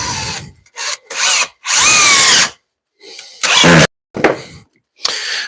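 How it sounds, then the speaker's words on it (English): A DeWalt cordless drill drives screws into wood blocking during a bathroom remodel, in several loud, close bursts of whirring motor of varying length, separated by short pauses. "So now I'm gonna drive the screws from the other side."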